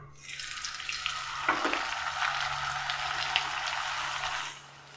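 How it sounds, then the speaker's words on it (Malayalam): Puris frying one at a time in hot oil, a loud close sizzle that swells in after a moment, stays steady for several seconds, then fades out, with no talk. "ഇതിലേക്ക് നമുക്ക് ഓരോന്നായിട്ട് പൊരിച്ചെടുക്കാം"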